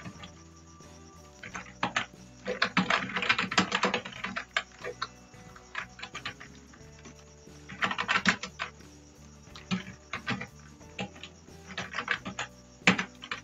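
Typing on a computer keyboard: bursts of rapid, close key clicks separated by short pauses and a few isolated taps, with no voice.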